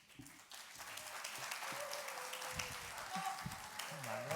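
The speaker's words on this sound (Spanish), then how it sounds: "un aplauso a Manuel Sáenz de Heredia." Applause at a family memorial tribute in Ibiza, a steady crowd clapping that swells and holds for several seconds, with scattered voices and a few tonal whistles or calls mixed in.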